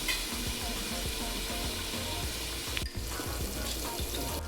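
Oil sizzles and crackles around a frying masala base for egg biryani, with steady close-up spattering and frequent low clatter from stirring, briefly dipping midway before resuming.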